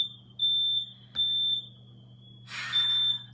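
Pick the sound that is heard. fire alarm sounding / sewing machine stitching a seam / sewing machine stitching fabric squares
fire alarm sounding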